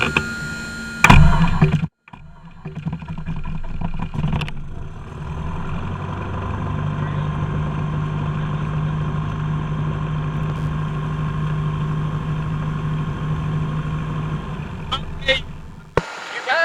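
A small aircraft engine cranks and catches after a brief click, then settles into a steady, loud running drone with a low rumble, holding until a sharp cutoff near the end.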